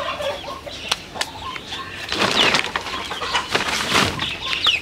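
Kadaknath hen and other chickens clucking around a nest of eggs, with short scratchy calls and a few sharp squawks rising over busy farmyard noise, fairly close and without talk.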